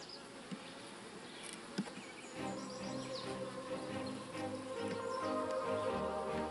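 Honeybees buzz steadily around open hive frames on a warm, humid day, a dense close swarm drone that thickens partway through, with no voices.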